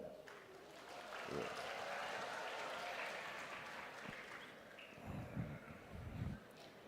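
A crowd claps in sustained applause during a speech by the Indonesian President, a dense patter of many hands heard from some distance, with a voice speaking over it.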